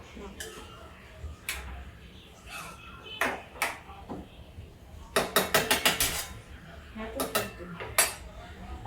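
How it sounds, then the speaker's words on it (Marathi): Cream is whisked in a bowl in a home kitchen making a pointed gourd curry, with quick metallic clinks and a burst of rapid rhythmic taps of whisk against the bowl, close and clear amid faint background sound. "आपल्या क्रीम आहे ना, हा त्याला जरा फेटून टाक."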